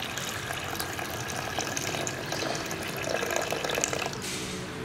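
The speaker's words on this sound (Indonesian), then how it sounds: "Lalu selanjutnya kita akan tuang air ini ke wadah." Water from a settled sand sample in a laboratory sand specific-gravity test is poured off into a container, a soft continuous trickle and splash that is fairly faint and steady.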